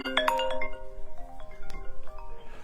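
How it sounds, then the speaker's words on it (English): A melodic phone ringtone plays clear tonal notes that start bright and busy, then continue as sustained chiming tones fading in and out, with no talk. "I got a phone call"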